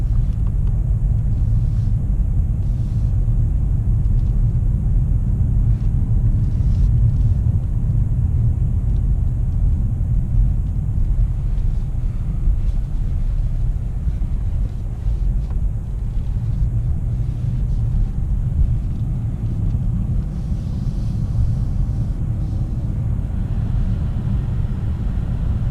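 A 2018 Mercedes-Benz CLS 350D 4MATIC AMG diesel cruises on a night drive, giving a continuous low interior rumble of engine and road noise that holds steady for the whole stretch without talk.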